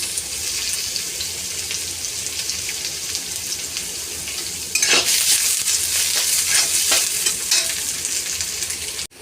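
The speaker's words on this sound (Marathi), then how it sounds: "आता याला छान असं आपल्याला परतून घ्यायचं आहे." Onion, radish and chili sautéing in oil, a loud continuous sizzle that surges louder midway, with several sharp stirring scrapes in the pan up close.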